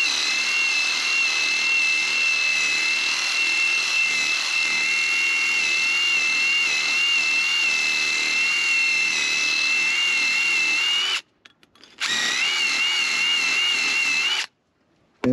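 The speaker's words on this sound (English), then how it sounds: "I have one of these that you can put on the drill." A power drill fitted with a rust-cleaning attachment, used by a mobile mechanic working on a rainy night, whines steadily at a high, constant pitch, running loud and continuous, briefly cutting out twice near the end before spinning back up.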